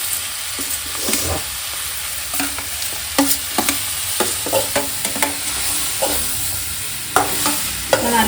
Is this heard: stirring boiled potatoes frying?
yes